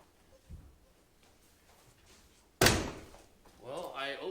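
A soft knock, then one sharp loud clunk as the door of a 1965 Buick Riviera is opened, close by, followed by a person's voice.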